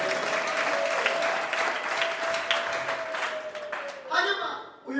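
A congregation claps together at a church service, a steady burst of applause lasting about four seconds before it breaks off and a voice is heard.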